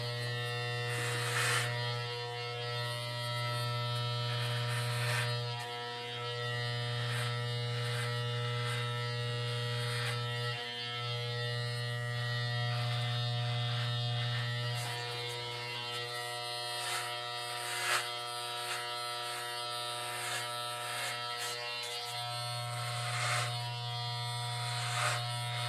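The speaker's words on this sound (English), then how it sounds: "at least I don't have to cut it that often if I shave it" Electric razor shaving a head, a loud continuous close buzzing hum that dips briefly a few times as the blades move across the scalp, no talk.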